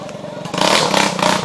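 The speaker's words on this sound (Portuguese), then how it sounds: "Já vi uma moto aí descendo na banguela" Trail motorcycle coasting downhill on a dirt trail at an organized ride in Condado, Pernambuco, giving a rough, clattering engine and scraping rumble that swells louder halfway through the brief moment.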